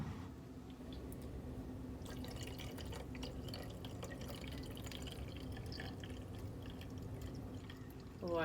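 Warm water poured from a container into the reservoir of a Navage nasal rinse device, filling it to the fill line; a steady, quiet trickle and splash runs continuously throughout with no talking.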